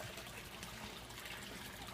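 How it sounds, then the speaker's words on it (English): Water trickles steadily through aquaponics plumbing into a tank, a faint, continuous splashing wash with no voices. "The water just completely bypasses it, goes into the tank."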